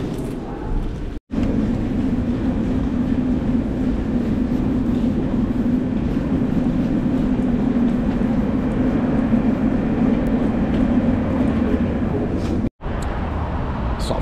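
Minsk metro train at Vostok station, a loud sustained rumble of rolling carriages and wheels on track with a steady low hum, briefly cut twice, no talk.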